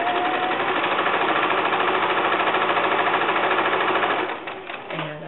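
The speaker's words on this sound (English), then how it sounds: "So go ahead and start sewing, and I'll just do a little bit here." A sewing machine runs steadily as it stitches quilt fabric for a log cabin quilt, a loud, fast, even mechanical whir that slows and stops near the end.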